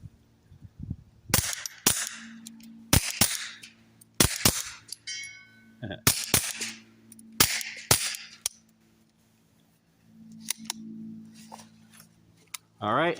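Suppressed rifle shots from CCI standard velocity ammunition through an AAC Element 3 suppressor come as roughly ten sharp, close cracks in uneven pairs and singles, with quiet gaps, brief mechanical clinks and a short spoken phrase between them.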